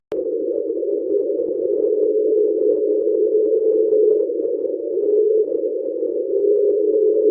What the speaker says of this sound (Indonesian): suara kereta ini adalah dengungan stabil yang kemungkinan berasal dari Laut Ross